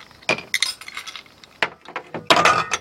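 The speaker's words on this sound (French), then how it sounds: "Vous rajoutez suffisamment de glaçons." Ice cubes drop into glasses holding lime, mint leaves and liquid for a mojito, giving a quick run of bright, close glassy clinks and rattles in uneven bursts.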